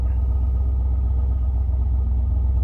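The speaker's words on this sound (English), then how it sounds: "Here's the stock exhaust note." A 2021 Ford F-250 7.3 pickup idles on its stock exhaust with two resonators and a large muffler, a deep, steady rumble close by, a low throbbing drone with no other sounds.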